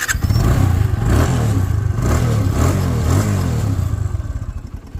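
A used motorcycle with about 25,000 km on it starts up and idles close by, its engine putting out a steady, loud, rapid thumping putter that fades slightly toward the end.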